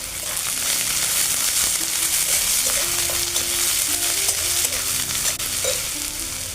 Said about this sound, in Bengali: দিয়ে দেবো পেঁয়াজ কুচি আর থেতো করা রসুনটা ভালো করে ভেজে নেব।